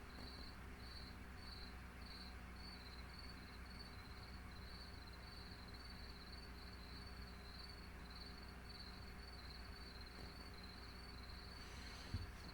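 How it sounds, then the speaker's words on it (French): Crickets chirp steadily at night in a regular pulsing rhythm over a faint, low background hum, with no voices present. "vous pouvez toujours écouter les grillons"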